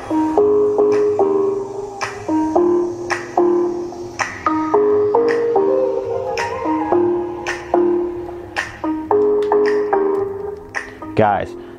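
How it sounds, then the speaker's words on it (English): A small Bluetooth speaker built into a 4-in-1 water bottle plays music, with clear melodic tones and plucked, percussive notes in a steady rhythm, fairly close and loud throughout. "this speaker sounds amazing"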